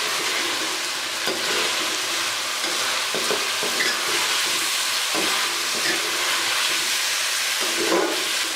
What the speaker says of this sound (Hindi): अभी हमने इसको और फ्राई करना है